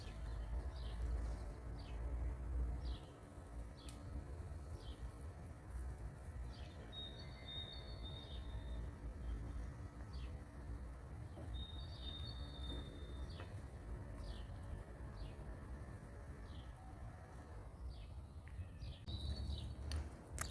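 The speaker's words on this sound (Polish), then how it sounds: "Posłuchajcie, jak ptaszki śpiewają." Small birds sing outdoors on a morning in Gliwice, their faint, scattered high chirps repeating over a steady low rumble of distant traffic, with no one speaking.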